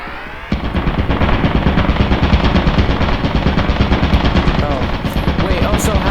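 A video game turret fires a sustained, rapid stream of shots that starts abruptly and hammers on loud and close, with a voice briefly heard beneath it.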